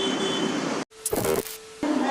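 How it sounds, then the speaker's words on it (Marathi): A Mumbai fast local train at Goregaon station rumbles loudly close by with a sustained hum, then briefly cuts out before a burst of rattling and a steady tone return. "नेहमीप्रमाणे आपली पाच त्रेपन्नची फास्ट लोकल आहे ती आपल्याला पकडायची आहे"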